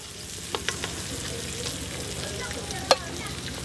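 Grated coconut sautéing in coconut oil, a low continuous sizzle with a few light stirring taps and one sharp clink.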